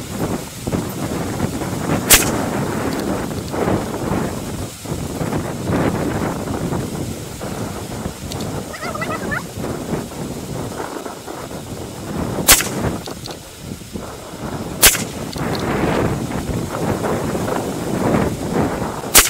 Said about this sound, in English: Shooting my Savage 17 HMR at the top target